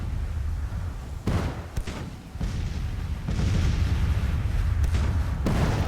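Cannon fire from a Civil War artillery battery in a strategy game, a run of heavy low booms and bursts, some close together, over a continuous rumbling battlefield background.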